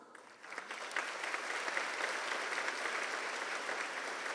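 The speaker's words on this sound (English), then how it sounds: "Round of applause." Applause at a formal European Day dinner welcomes the chairman of the European Chamber of Commerce Taiwan, a dense steady clapping from a large seated audience that swells in after a quiet start and holds evenly throughout.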